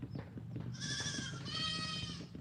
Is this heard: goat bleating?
yes